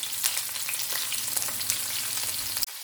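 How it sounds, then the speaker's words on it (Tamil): Chopped small shallots and a large onion sautéing in a pan, a continuous crackling sizzle with light stirring scrapes, cutting off abruptly just before the end. "வெங்காயத்தை நம்ம நல்லா கொஞ்சம் நேரம் வதக்கி விட்டுக்கலாம்"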